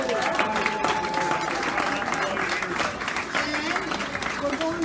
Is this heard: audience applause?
yes